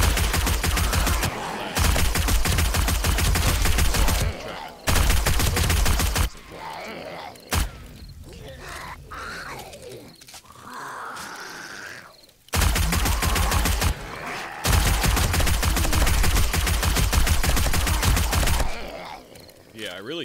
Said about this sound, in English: the GNA mods literally is just me shooting a machine gun just trying to talk over it